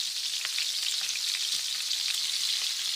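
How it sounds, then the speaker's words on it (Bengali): Potato snacks crackle and sizzle steadily in hot oil, a dense continuous frying hiss with scattered small pops, close by and without any talking. "তেলটা প্রথমে ভালোভাবে গরম করে নিয়ে তারপরে স্ন্যাক্সগুলো দিয়ে মাঝারি আছে উল্টে পাল্টে এইভাবে ভেজে নিতে হবে।"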